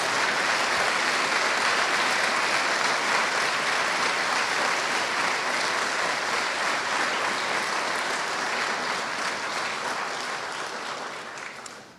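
Sustained applause from a graduation audience at a nuclear engineering ceremony, a dense, loud wash of clapping that holds steady and fades slightly at the end.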